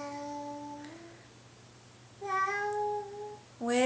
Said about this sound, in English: What sound does the cat make?